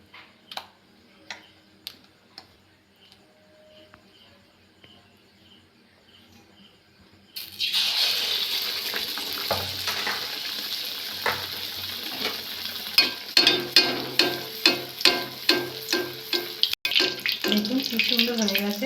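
Eggplant slices for beguni hit hot oil and fry with a loud, steady sizzle that starts abruptly partway through and builds into crackling bursts, after quiet clinks of kitchen utensils.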